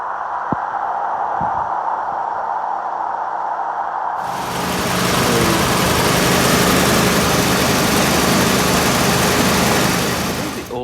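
A 1962 Chevy II engine runs on a newly installed Delphi mechanical fuel pump, idling quietly at first, then roaring louder and steady as it revs up and keeps running close by.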